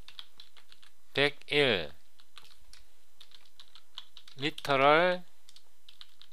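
Typing on a computer keyboard to rename a folder: faint, scattered key clicks run under two short bursts of speech.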